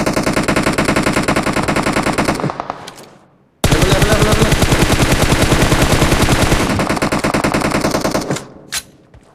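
Rapid automatic gunfire in the mobile battle-royale game PUBG Mobile, loud sustained bursts with a short pause between them, followed by a few scattered shots near the end.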